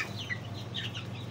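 Young chicken being raised for competition, likely a fighting breed, clucking in soft, scattered bursts over a steady low farmyard hum, fairly close with no voices.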